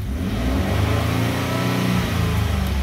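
A 2013 Ford F-150 pickup's EcoBoost engine revs hard and steadily, a deep throaty roar rising and holding for a few seconds, close and loud with no talking.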